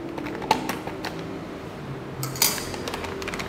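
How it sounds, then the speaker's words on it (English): A spoon stirs Mountain House Pro Chili Mac inside its pouch, producing a series of light clicks and taps with crinkly scraping, close and fairly quiet, with one brighter rustling burst near the end. "I'm gonna just give it a good stir here"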